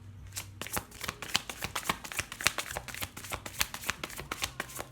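A deck of cards is shuffled close by, with crisp rapid riffles and soft slaps repeating in quick bursts, no talking.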